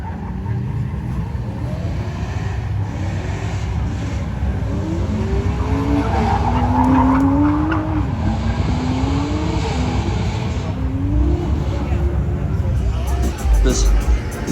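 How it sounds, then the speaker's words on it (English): Cars drifting at an Import Face Off event at New Hampshire Motor Speedway, with rising and falling tire squeals and engine revs carrying from a distance over steady crowd chatter and outdoor noise. "Pretty sure that I hear cars drifting over here"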